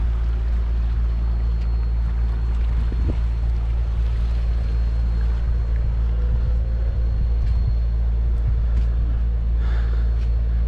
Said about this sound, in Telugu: ఇది మాత్రం యాక్చువల్లీ ఫిషింగ్ బోట్ అనమాట.